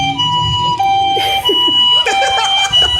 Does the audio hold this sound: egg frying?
no